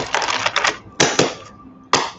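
Keys clatter on a keyboard in quick close-up bursts of clicks, with a short pause between each flurry and a final brief cluster.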